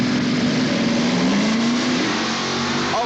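Two 1960s Plymouth muscle cars staging at Memphis Motorsport Park drag strip, a loud, steady engine drone with slowly shifting revs, close and continuous.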